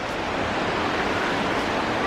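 A small waterfall trickles in the outdoors, a steady, close wash of falling water with no clear individual drips, continuous and fairly loud with no voices over it.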